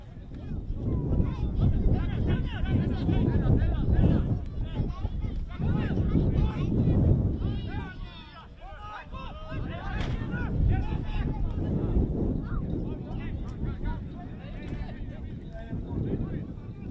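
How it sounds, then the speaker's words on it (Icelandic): Gusty wind buffets the microphone on an outdoor football pitch during an Icelandic second-division match, a steady low roar that swells and dips under a commentator's continuous talk. "Svolítið vindur hérna."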